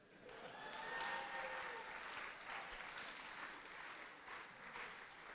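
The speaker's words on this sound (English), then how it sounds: "let's please first give them a heavy round of applause" Wedding guests applaud at a reception, a moderately quiet, even spread of clapping lasting several seconds with faint voices and tones mixed in.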